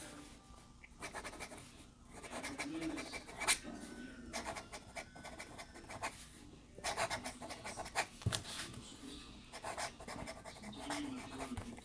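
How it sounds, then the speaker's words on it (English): A Pilot Falcon fountain pen scratches quickly across paper, a soft, close series of rapid strokes in bursts with brief pauses, faint and without talk. "Do a little bit of fast writing, or faster anyways."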